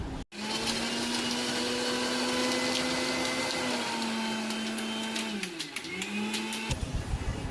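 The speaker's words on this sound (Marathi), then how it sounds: "आता यानं पण मिक्सरला लावूया आणि याचं बारीक वाटण करून घेऊया" A kitchen mixer grinder whirs loudly and continuously as it grinds garlic and ginger into a fine paste, its motor pitch dipping and recovering near the end before cutting off abruptly.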